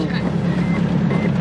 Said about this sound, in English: It's beeping because we don't have seat belts on.